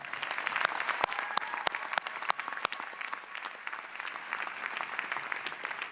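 Sustained applause from a graduation audience in an auditorium, honoring standing students, with sharp individual claps popping out of a dense, steady wash of clapping that holds for several seconds.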